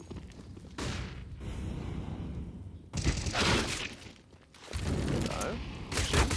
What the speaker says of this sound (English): Everyone connects on those pistols.